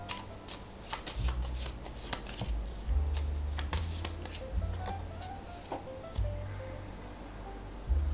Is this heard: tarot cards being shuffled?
yes